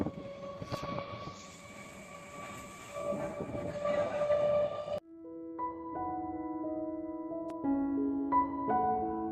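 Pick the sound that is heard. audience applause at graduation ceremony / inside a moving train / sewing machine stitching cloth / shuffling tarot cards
inside a moving train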